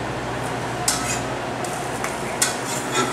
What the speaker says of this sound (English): Mixing it down.